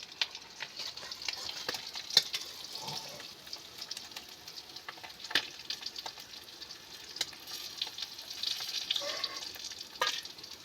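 River fish frying in hot oil in a home kitchen, a steady crackling sizzle with scattered sharp pops and occasional stirring, moderately loud and close, with no talking.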